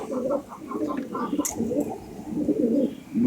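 Pigeons coo softly at a pigeon club, several low repeated coos close by with a brief flutter or chirp in between.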